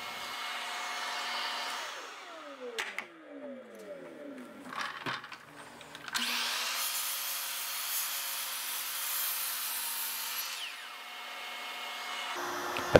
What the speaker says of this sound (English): And back at the miter saw, we trim the ends of the mallet head.